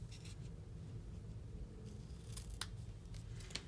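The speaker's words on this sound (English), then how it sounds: "Get my ribbon scissors." Ribbon scissors snipping through ribbon during paper crafting, a few quick crisp cuts close by over a low background hum, no talking.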